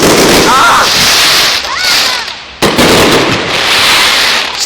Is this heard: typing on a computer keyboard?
no